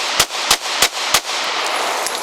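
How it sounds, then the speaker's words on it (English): Four evenly spaced pistol shots fired while advancing during a one-handed draw-stroke drill, each sharp crack loud and close, followed by a short quiet tail with faint handling noise. "I'm driving forward and I'm shooting."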